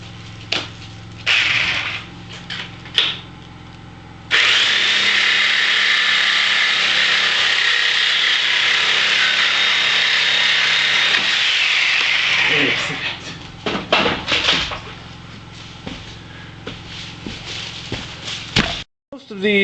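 Metal rod for a giant robot project being sawn off to length with a power tool, a loud continuous grinding whine lasting several seconds, set among scattered clanks and handling noises.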